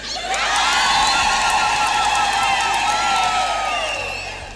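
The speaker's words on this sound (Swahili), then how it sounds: "Makofi." A large crowd at a Catholic jubilee gathering in Moshi greets a bishop with loud, continuous cheering, clapping and high wavering ululations that swell and hold for several seconds.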